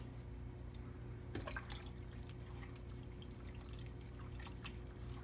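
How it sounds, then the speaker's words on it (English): A spoon stirs shrimp stock in a pot, soft liquid swishes, faint drips and one brief clink against the pot, all quiet and close. "We'll give our stock a stir."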